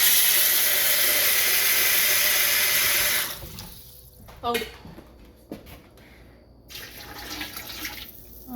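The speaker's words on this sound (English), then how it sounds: "I probably might need to put some more water in there" Tap water runs loudly into a pot of homemade chicken noodle soup for about three seconds, then cuts off. A short exclamation follows, and scattered kitchen clinks and soft movement sounds come after.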